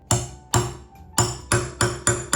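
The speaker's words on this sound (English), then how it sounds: "And we're gonna freaking literally hammer it." Six sharp, evenly spaced hammer blows strike a guide piece set onto a male-and-female fastener part for a DIY outfit, each about half a second apart, close and loud with short ringing decays.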